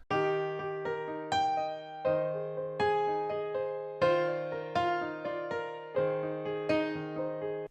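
Solo piano plays rolling broken chords in a slow, steady halftime groove, notes spilling upward over sustained low bass tones, clear and close.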